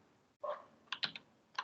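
Someone types on a computer keyboard in a quiet room: a few sparse, crisp keystrokes in short irregular bursts, close by, with no talking.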